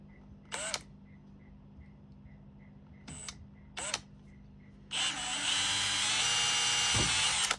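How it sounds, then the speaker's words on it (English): A power drill boring into a part clamped in a vise: a few short whirring bursts, then a loud sustained high-pitched drilling run lasting a couple of seconds before stopping. "I'll put my drill bit in so that way I don't go too far down"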